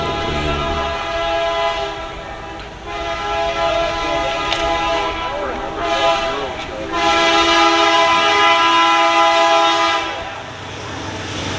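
A train approaches and sounds a long, loud horn in sustained blasts, rumbling on the rails with the horn dominating for several seconds before easing, heard outdoors at a hot rod and classic car show.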